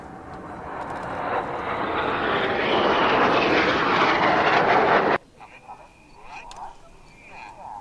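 Red Arrows display jets roar loudly overhead in close formation at an air show, a broad sustained jet rush that swells and then cuts off abruptly, leaving faint background noise and distant voices.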